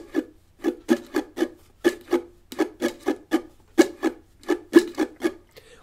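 A ukulele is strummed in a down-chunk-up pattern, producing quick percussive muted chunks and brushed strokes in a steady repeating rhythm, close and clear with no talking.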